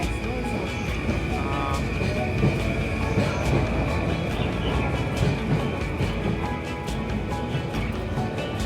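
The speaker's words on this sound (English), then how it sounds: "That's our train." A train pulls into a station platform in Japan, its steady rumbling roar and rhythmic wheel clatter filling the space continuously and loudly, with faint station ambience.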